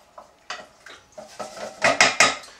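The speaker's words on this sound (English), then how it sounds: "So let's get those in. Give those a good stir." Chopped tomatoes being stirred in a pan for a tomato sauce, a series of close utensil scrapes and clinks against cookware that grow louder toward the end, with no talking.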